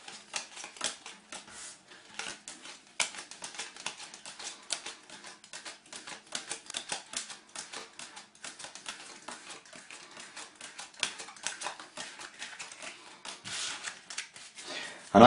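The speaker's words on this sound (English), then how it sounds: "I'm just going to count these cards." Playing cards counted by hand, a quick run of soft flicks and clicks as cards are dealt off one by one, close and fairly faint.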